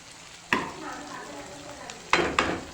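Vegetables sautéing in a pan for khichdi, with a brief low sizzle broken by three sharp scraping stirs, close and clear, with no speech.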